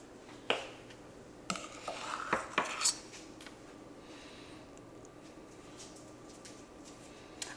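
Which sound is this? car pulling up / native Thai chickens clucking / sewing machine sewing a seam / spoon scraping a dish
spoon scraping a dish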